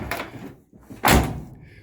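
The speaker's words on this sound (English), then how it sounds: "Kind of nice now to be able to shut the door and not hear the window rattling around in there." The door of a 1973-87 Chevy square body truck swings shut with one solid, close slam, and a short rustle comes before it. Newly fitted door seals and window channel are in place, and no one speaks.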